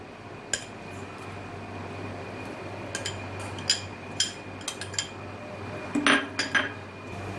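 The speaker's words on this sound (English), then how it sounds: "And now we add the crushed corn to it." Crushed corn tipped into a pan of heated ghee and chilies, with a few sharp metallic clinks and taps of a utensil against the pan over a low steady background hum, no talking.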